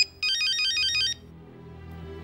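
A mobile phone rings with an incoming call, one loud electronic ringtone burst of rapid repeating tones in a quiet room, then it cuts off, leaving a low background hum.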